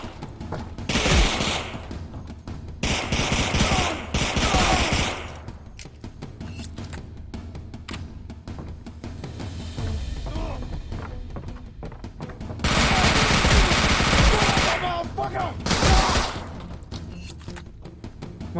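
Submachine gun fire in a shooting video game, dense bursts of rapid automatic shots with loud stretches near the start and again around the middle, separated by quieter gaps of scattered shots and ambience.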